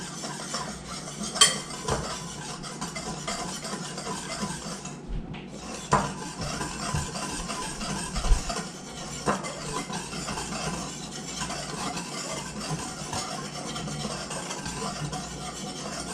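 Dry ingredients, including flour and salt, being mixed in a bowl with a utensil, producing steady soft scraping and rubbing with occasional light taps and clinks against the bowl, close and moderately quiet.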